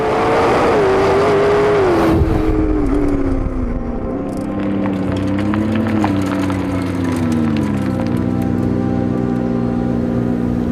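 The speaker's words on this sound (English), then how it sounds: "The P1 slicing through corners fast and flat." A McLaren P1 supercar driven hard through corners, its engine loud and close with a steady, sweeping note that dips and climbs as it works through the bends, plus a brief sharp burst early on.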